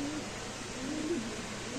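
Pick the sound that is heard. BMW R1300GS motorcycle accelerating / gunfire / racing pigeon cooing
racing pigeon cooing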